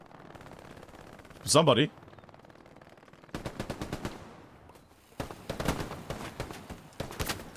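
Machine gun fire in the World War II shooter Hell Let Loose comes as several rapid bursts of rattling shots at moderate distance, with a sharp whoosh earlier and a voice speaking briefly.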